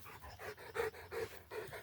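Dog panting in quick rhythmic breaths close by, steady huffing bursts with no talk over it.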